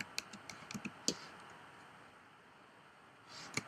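Quiet, fairly close clicks from typing on a computer keyboard, a short cluster of key taps, then a brief pause, then a few more taps.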